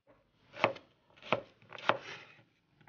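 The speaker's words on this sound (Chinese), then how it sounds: "辣子也切成块儿" A knife chopping chili peppers into pieces on a cutting board, three distinct sharp chops spaced evenly apart, close and clear with no talking.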